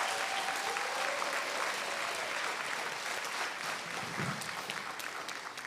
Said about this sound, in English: give them another round of applause for their hard work